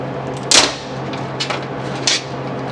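A clamp released from a GT3 road race car chassis after tack welding gives a sharp metallic click near the start, then two softer clicks, over a steady low workshop hum.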